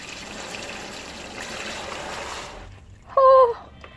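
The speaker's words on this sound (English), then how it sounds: "I'm going to see how much water comes out." Water sprays steadily from an Ooklee battery-powered shower into a bathtub, a loud continuous hiss that cuts off near the end before a brief tonal sound follows.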